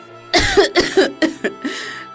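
A woman ill with sickness coughs in a run of five or six harsh, close bursts, some catching in her throat, loud and alone with no talking around them.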